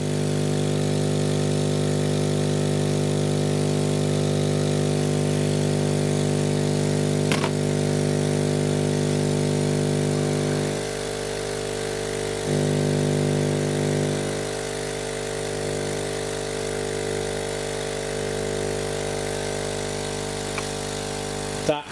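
A laser engraver's air-assist pump runs steadily with a loud, constant mechanical hum and buzz, its tone shifting and softening partway through as a length of hose pipe is fitted to its top.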